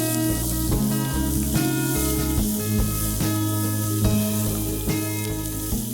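Finely chopped onion fries in hot oil, a loud, close, continuous sizzle with faint stirring under a steady low hum.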